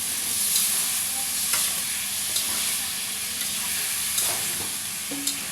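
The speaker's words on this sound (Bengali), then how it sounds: "এইভাবে নাড়াচাড়া দিয়ে একটু রাখতে হবে" Fresh chicken stirred and fried in a kadai sizzles in a steady, close hiss, with faint scrapes and taps from the stirring and no one talking.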